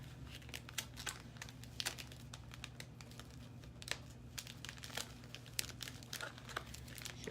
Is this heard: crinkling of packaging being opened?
yes